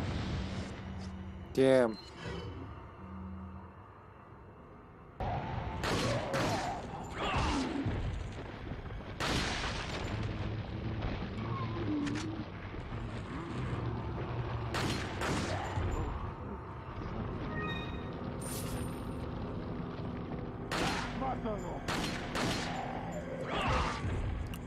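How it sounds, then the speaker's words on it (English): Grenades blasting in the PS2 game Resident Evil 4: several loud booming explosions burst out at irregular intervals over game ambience and rumbling, with a voice speaking briefly early on. "I guess two more grenades will have to fly."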